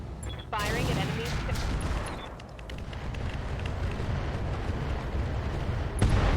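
Mech weapons firing at enemies in the video game RogueTech, a dense, loud barrage of blasts and impacts that rolls on for several seconds with a sharp burst near the end.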